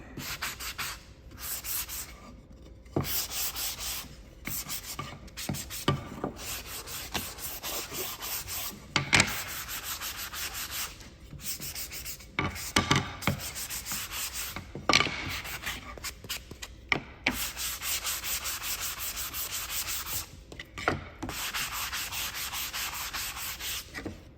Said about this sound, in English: So I'm gonna sand both front and back sides.